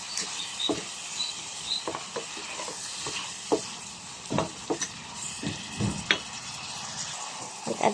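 Butter sizzles and crackles in a hot pan while cooking garlic butter shrimp, a steady frying hiss broken by scattered sharp pops and light clicks, close and moderately loud, with no talking.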